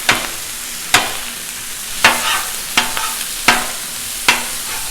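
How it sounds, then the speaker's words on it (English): Ground beef, 85/15, sizzling on a Blackstone griddle while a spatula chops it, giving sharp metallic scrapes and clacks about once a second over a constant frying hiss. "This is 1 pound of 85/15 ground beef. All right, let's go ahead and cut that up."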